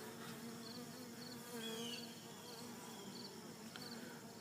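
A cluster of fallen bees clinging together, buzzing in a faint, steady drone with a few brief, higher whines from individual bees passing close, heard alone.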